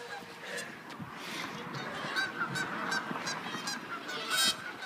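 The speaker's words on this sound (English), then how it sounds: "There's geese fighting." Geese fight and honk in repeated, overlapping calls, loud and close, some harsh and nasal, over a rough background of flapping and scuffling.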